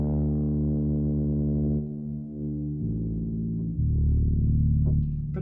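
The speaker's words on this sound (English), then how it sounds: "I think you could do a passable brass with that." A sustained brass patch on a Casio CZ-1 phase distortion synthesizer holds steady, then shifts to lower chord notes, bright and buzzy, played alone.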